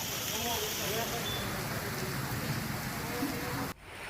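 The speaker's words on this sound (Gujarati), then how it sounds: "લીલિયા શહેરમાં મુશળધાર વરસાદ પડ્યો" A heavy monsoon downpour falls over Liliya town in Amreli district, Saurashtra, as a close, constant wash of rain with a voice underneath, then cuts off abruptly just before the end.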